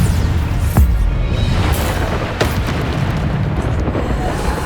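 Repeated Bombarda spell blasts in Hogwarts Legacy: dull booming bursts with sharp transient pops over a dense, continuous rumble of combat noise, no clear gaps between impacts.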